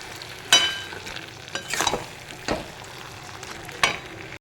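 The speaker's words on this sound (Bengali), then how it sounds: "এই তেলটা দিয়ে ভালো করে নাড়াচাড়া করে তরকারিটা কমপ্লিট হয়ে যাবে" Vegetable curry with added oil being stirred in a pan, a few sharp scraping clacks of the spoon spaced out over a soft, low sizzle, close and fairly quiet, no talking.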